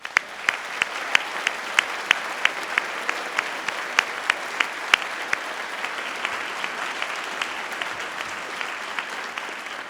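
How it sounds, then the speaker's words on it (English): A large audience at a Dalhousie law school spring convocation claps steadily for graduates, a dense, continuous applause with sharp individual claps standing out throughout. "please join me in congratulating all of the graduates with your applause"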